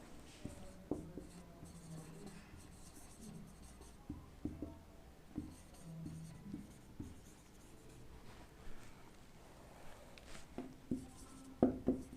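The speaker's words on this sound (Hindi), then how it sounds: "यहाँ पे मैं लिखता हूँ" Pen or chalk writing on a surface in short scratchy bursts and strokes, close and fairly quiet, with small taps between strokes and no talking.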